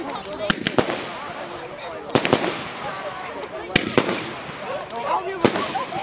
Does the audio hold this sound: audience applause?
no